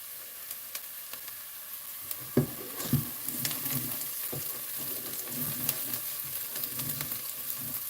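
Onions frying in a pot for a noodle soup, a continuous soft sizzle broken by repeated clinks and scrapes of a spoon stirring, close and fairly quiet with no talking.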